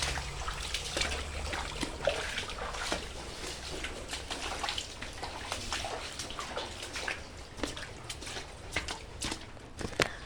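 Floodwater rushes and trickles steadily during a monsoon red warning, a constant watery wash with scattered splashes and knocks close by.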